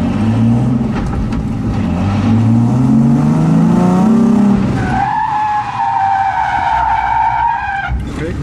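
Drift car at a driving academy with throttle applied, engine revving up and down through rising and falling tones, then holding a steady high note with tire skidding, loud and close, with voices talking over it.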